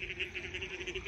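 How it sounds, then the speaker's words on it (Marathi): Frogs croak near a campus water channel in a rapid, regular pulsing chorus, about ten quick bursts in one second, close and moderately loud with no voices. "बेडकांचा आवाज किती मोठ्याने येतोय बघा"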